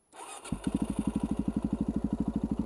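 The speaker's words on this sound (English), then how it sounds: "the bike's warm already, and you have to hold the clutch in to start it" A warm 2008 Suzuki DR-Z400SM supermoto engine cranks and fires up, then settles into a loud, steady, rapid thumping idle close by.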